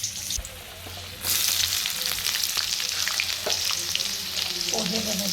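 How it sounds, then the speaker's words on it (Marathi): Poha sizzles and fries in a pan while being stirred, a loud, close, continuous crackling hiss with scraping spoon movements and no talking. "पोहे बनवते."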